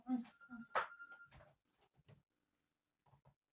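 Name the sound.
telephone ringing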